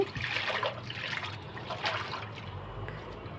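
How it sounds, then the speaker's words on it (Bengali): Bottle gourd greens being rinsed by hand in water, with splashing, trickling and sloshing close by, loudest at the start and easing off later, with no talking. "এখন শাকগুলো ধুয়ে নিচ্ছি"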